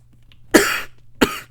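Two harsh coughs from one person, close and loud, spaced about half a second apart.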